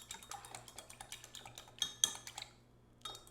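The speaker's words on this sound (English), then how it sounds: "Go ahead and whisk that" A tiny whisk beats a lemon-white balsamic vinaigrette in a small bowl, giving quick, light metallic clicks and taps in a steady run that fade out near the end.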